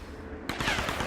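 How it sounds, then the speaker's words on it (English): Gunfire in the video game Tomb Raider, a sudden burst of rapid shots cracking in after a quiet moment, repeating quickly with a harsh, somewhat distant edge. "I hear someone's shooting, but I just don't see them."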